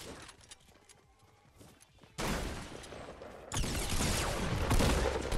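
Video game gunfire rips through an enemy's shield: after a quieter stretch, loud dense bursts of rapid shots erupt and then intensify into a sustained barrage.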